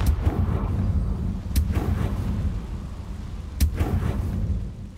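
A Confringo blasting spell goes off in the Hogwarts Legacy video game, with sharp booming blasts near 1.6 s and 3.6 s over a dense rumbling background. No one talks.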